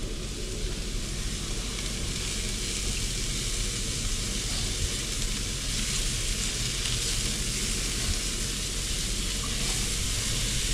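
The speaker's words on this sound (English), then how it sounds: "take our thyme and our shallot and we're gonna put them with the mushrooms. And now we're gonna mix them in." Mushrooms with thyme and shallot sizzle steadily in a hot pan for beef Wellington, a constant bright hiss with faint scraping stirring underneath, close and unbroken.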